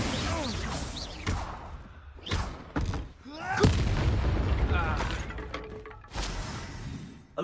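Confringo and Incendio spells going off in Hogwarts Legacy: loud booming blasts with shattering crackle and whooshes in quick succession, close and forceful, with a voice audible between the bursts.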